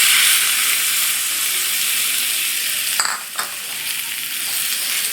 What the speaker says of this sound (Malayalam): ഇത് ചൂടോടുകൂടി തന്നെ ഇതിലോട്ട് ഒഴിച്ച് കൊടുക്കാം.